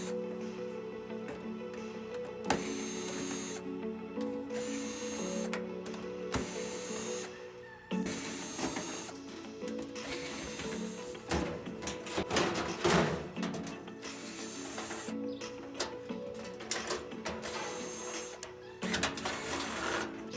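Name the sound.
removing 1/4 inch screws from the back of a dryer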